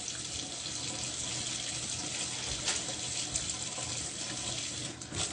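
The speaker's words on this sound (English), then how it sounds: "I got my fork and now I am, rinsing it out in the water." Warm tap water running steadily into a sink while a fork is rinsed, a soft continuous splashing flow heard faintly and alone.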